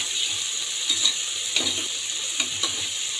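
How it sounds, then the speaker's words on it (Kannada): Tomato frying in a pan with pigeon peas and green chillies: a close, steady sizzle with occasional stirring scrapes and light clinks, no voices. "ಇದನ್ನು ಫ್ರೈ ಮಾಡಬೇಕು"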